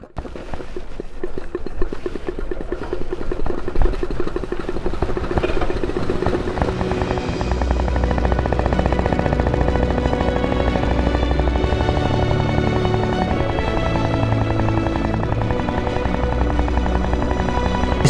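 A reconstructed early Royal Enfield prototype motor bicycle engine rattles and chuffs as it fires up, then settles into a loud, steady, droning run that holds close by for several seconds with no talk.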